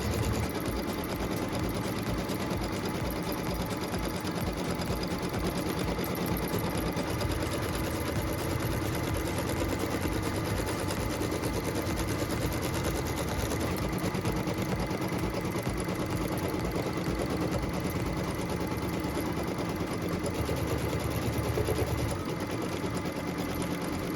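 An embroidery machine stitches the piecing template for a quilt block. It gives a continuous, even mechanical whir with a dense rapid pulse, steady throughout with no pauses or voices.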